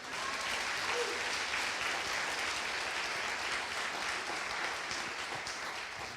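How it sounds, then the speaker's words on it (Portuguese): A church congregation claps steadily throughout, a soft and even wash of applause heard from across the room. "Dê uma salva de palmas para Jesus."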